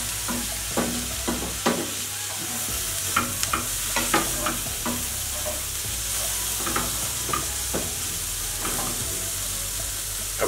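Fish sautéing in a pan for spicy Mexican fish and cheese enchiladas, a constant oily sizzle with frequent knocks and scrapes of a utensil stirring at an uneven rhythm, close up and with no talking.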